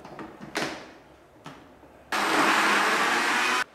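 An electric blender whirs loudly and steadily for about one and a half seconds, pureeing a homemade seasoning mix for pork in a kitchen, after a few quieter clunks and handling noises.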